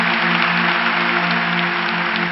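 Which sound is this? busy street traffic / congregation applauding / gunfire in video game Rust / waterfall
congregation applauding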